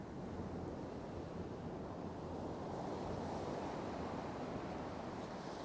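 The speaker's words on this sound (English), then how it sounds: "But just listen to the waves." Ocean waves break and wash steadily onto the shore in a continuous, fairly faint roar, with some wind buffeting the microphone and no voices.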